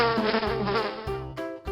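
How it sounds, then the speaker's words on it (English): A fly buzzes close and loud in a continuous wavering drone with slight pitch swells, lasting under two seconds with no talk. "Fly."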